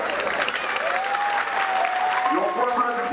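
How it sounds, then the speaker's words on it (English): Audience applause at an evening stage event, dense steady clapping filling the whole stretch at close range, with a sustained tone and some voices mixed in. "Et on prend l'applaudissement de votre cher enfant Alexandra, s'il vous plaît."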